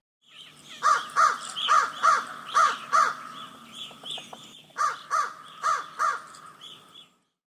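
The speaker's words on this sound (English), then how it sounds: "crow," A crow cawing loudly and close by, with a run of six harsh, evenly spaced caws, a brief pause with soft clicks, then four more caws.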